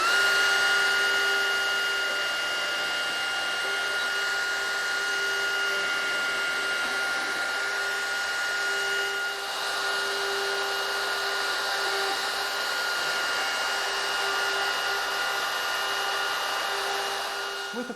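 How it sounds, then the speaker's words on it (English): A handheld router cuts mortises in wood, guided by a jig, for a Mission style bed; the high whining motor and cutting noise runs steady and loud for the whole stretch, close by, with no talk. "we're going to be routing our mortises using this jig."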